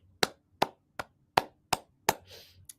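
A class claps out the words of a rhythm: about seven sharp, close hand claps in an uneven pattern, no voices between them.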